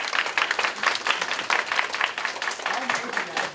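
Applause from the audience at a joint high school wind band winter concert, a dense steady patter of many hands that fills the hall, with a voice speaking over it.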